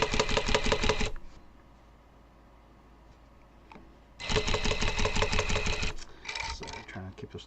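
Loud, rapid mechanical chattering from a rug tufting gun punching yarn lines into backing cloth comes in two bursts of a few seconds each, split by a quiet pause, then a shorter third burst follows.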